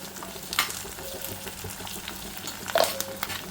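Seeds roast in a pan, a continuous low frying crackle broken by a couple of sharp stirring scrapes against the metal.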